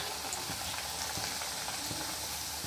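Food deep-frying in oil in an old iron kadhai in a Konkan home kitchen, a steady, close, dense sizzle and crackle that runs without pause.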